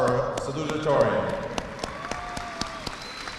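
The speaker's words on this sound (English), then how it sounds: "Round of applause for our salutatorian." Brief applause from a high school graduation ceremony audience honoring the salutatorian, a short patch of clapping mixed with speech, then scattered individual claps fading out.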